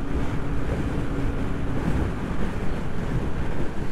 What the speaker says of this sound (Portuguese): Estamos com garupa, a motinha vai andando aqui